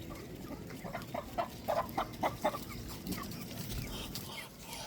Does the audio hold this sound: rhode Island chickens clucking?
yes